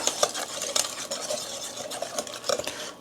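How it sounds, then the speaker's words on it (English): Whisk or spatula stirring almond flour pancake batter in a bowl, a steady close scraping and clicking against the sides with irregular taps, loud and continuous with no talk. "So you can either use your whisk or the spatula, doesn't matter, spoon, anything, just to get it well mixed up"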